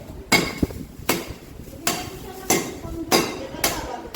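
Repeated sharp pounding knocks on ice for halo-halo, roughly one every half second, with crunching and clinking after each strike as people talk nearby.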